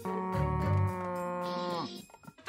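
A Scottish cow gives a single long, low moo that swells, holds its pitch and then trails off, heard up close and alone.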